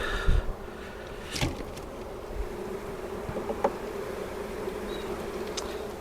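Honeybees buzz steadily around an open hive during a swarm-cell inspection, a dense continuous drone with individual bees passing close now and then, plus a few brief handling knocks.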